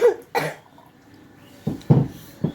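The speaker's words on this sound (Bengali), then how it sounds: "আমার কাশিও একটু শুনে নাও" A woman coughs in two bursts, a pair of harsh coughs followed after a pause by three more, close and alone with no talk.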